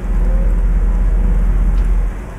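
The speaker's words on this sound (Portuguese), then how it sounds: "Chuva, chuva." Steady in-game rain with low thunder rumble in Euro Truck Simulator 2, driving a Comil Invictus DD 8x2 Mercedes bus at night; a constant loud wash of rain with a deep rolling rumble underneath, no talking.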